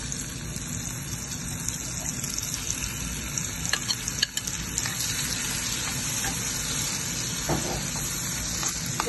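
Tomatoes fry in garlic butter with a steady, close sizzle and crackle that holds throughout, broken by occasional small pops and stirring scrapes, with no talking.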